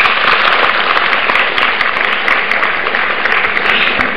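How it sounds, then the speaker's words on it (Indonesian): Studio audience applause at a health talk show, dense steady clapping filling the whole stretch at a loud, even level with no voices over it. "Beri tepuk tangan Bu Citra."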